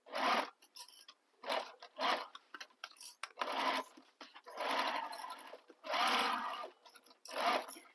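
A sewing machine stitches a bag side panel in short, close bursts of whirring, separated by brief pauses, with a few quieter fabric rubs between runs.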